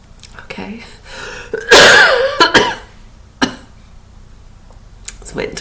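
A person coughs in a short, harsh burst, then two more quieter coughs follow, close and clear with faint room noise between.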